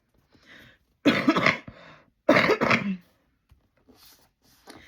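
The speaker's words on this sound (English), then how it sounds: "And I cough into my elbow when I bring my hand up." Two loud, harsh coughs close by, spaced about a second apart, with faint breathy sounds before and after in a quiet room.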